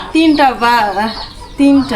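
A hen clucks close by, with three drawn-out, throaty calls and a short pause before the last one.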